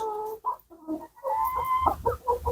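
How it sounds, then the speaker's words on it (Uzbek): Several black chickens cluck and squawk close by, overlapping calls in quick bursts with short pauses between them. "Mana tovuqlarimiz."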